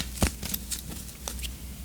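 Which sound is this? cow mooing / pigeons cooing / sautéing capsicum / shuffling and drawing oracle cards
shuffling and drawing oracle cards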